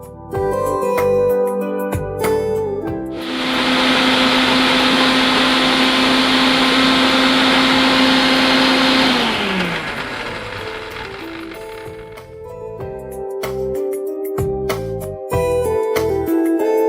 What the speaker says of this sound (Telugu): ఇప్పుడు ఇది మనం మిక్సీ పట్టేసుకున్నాం.